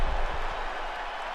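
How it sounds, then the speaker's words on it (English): Arena crowd at a UFC lightweight bout applauding and cheering after a round ends, a dense, steady roar of clapping and voices that stays loud throughout with no break. "the crowd voicing its appreciation after that round"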